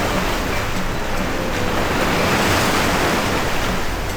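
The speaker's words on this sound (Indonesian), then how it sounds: "Dan ini ombaknya kebetulan lagi tinggi, jadi harus hati-hati guys." High ocean waves break at Torohudan beach near Yogyakarta in a loud, continuous roar of surf with wind buffeting the microphone and no voices.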